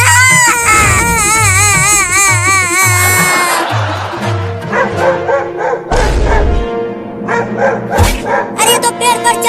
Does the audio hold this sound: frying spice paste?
no